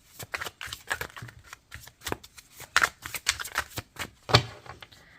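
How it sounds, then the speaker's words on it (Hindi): Tarot cards shuffled by hand in a series of quick riffling and slapping bursts, close and fairly loud, with a sharp snap near the end and no talking. "मैंने यहाँ शफल कर दिए हैं और उसके बाद हम निकालेंगे कार्ड्स एक एक करके।"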